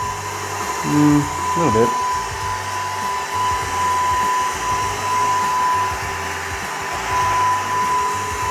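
A Eufy Mach V1 Ultra robot vacuum blows hot air with a steady, loud hair-dryer-like whoosh and a thin whine, and a person briefly speaks near the start.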